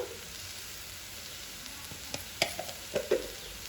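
Gongura leaves frying in oil as ginger paste is stirred in: a soft, steady sizzle, then a few quick scrapes and taps of a spoon near the end, quiet and close, with no talk.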